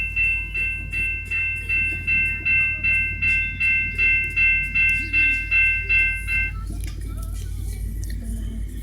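A VIA Rail passenger train passing at Smiths Falls, its cars producing a strong, rhythmic clickety-clack of wheels over rail joints at close range, with a steady sustained rumble and a tonal hum that fades as the train clears.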